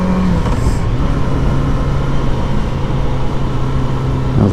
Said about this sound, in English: That was a pretty slick gear change.